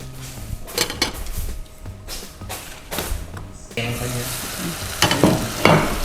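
Kangkung (water spinach) sizzling and being stirred in a pan with a little added water, close-up scraping and clinking of the utensil over a steady frying hiss, growing busier toward the end.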